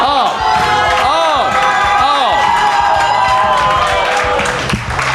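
A studio audience at a comedy warm-up breaks into loud cheering, whooping and applause, a dense crowd roar lasting throughout with shouts rising above it, heard close.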